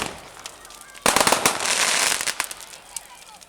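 Fireworks crackle and burst overhead on bonfire night in Whiting Bay on the Isle of Arran, a sudden loud sputtering flurry that fades over a couple of seconds, with people talking nearby.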